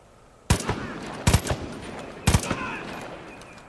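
Three sharp gunshots in Far Cry 5 ring out about a second apart, each followed by short echoing reports, over a low steady background.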